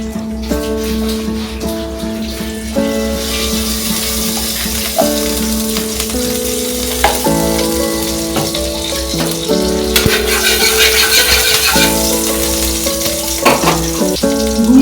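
Ghee heats in a hot wok with a loud, steady crackling sizzle that continues throughout, while soft melodic background music plays underneath.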